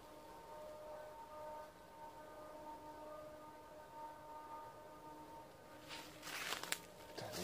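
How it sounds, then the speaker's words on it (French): A distant siren wailing at one in the morning, heard from a tent in a forest at night, a faint steady tone hanging over quiet ambience, with closer rustling and scraping noises near the end. "Une sirène à 1h du matin."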